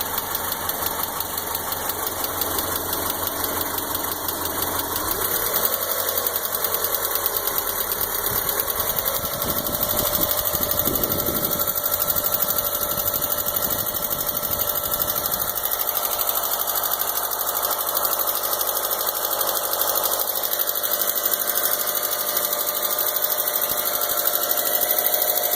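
A 2003 Mitsubishi Galant with the 4G64 engine idles steadily after new lifters were fitted, a continuous close engine drone with a faint rapid tick running through it and no voices.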